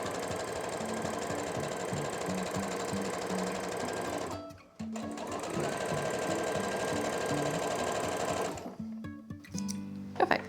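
A sewing machine stitches a frill onto a top at the waist seam in two long steady runs, pausing briefly near the middle and stopping toward the end with a few light handling clicks.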